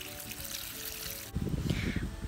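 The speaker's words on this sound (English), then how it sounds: "now I'm going to pour the rest of the water out" Water is poured out of a pot of grapes while making homemade grape jelly, a steady close trickle that turns into a louder splashing stream midway, with no talking.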